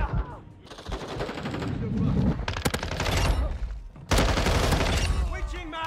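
Rapid automatic gunfire from the Call of Duty video game, loud and close in dense sustained bursts with short gaps, with a voice talking over parts of it.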